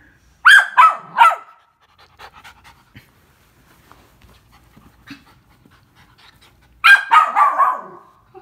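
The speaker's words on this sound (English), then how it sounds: "Barking is not going to accomplish anything" A nearby dog lets out a quick burst of three sharp barks, falls quiet with faint background rustling, then barks again in a rapid cluster.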